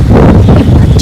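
Strong monsoon wind buffets a microphone outdoors, producing loud low rumbling gusts and thumping distortion that fill the short moment.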